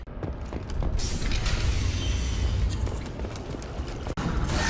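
A heavy door creaks and clunks as it is locked shut in the video game Horizon, a close mechanical grinding creak lasting a few seconds with a sharp knock near the end.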